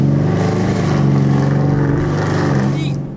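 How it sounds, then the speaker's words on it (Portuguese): A car revs and accelerates away from a standstill, its mid-pitched engine loud and steady for about three seconds before easing off at the end. "Vamos sair acelerando aqui"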